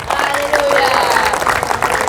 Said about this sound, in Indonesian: Berikan tepuk tangan buat Yesus